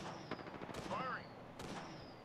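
Video game gunfire comes in a short burst of crackling shots with sweeping electronic tones, fairly quiet and brief, mixed with game effects.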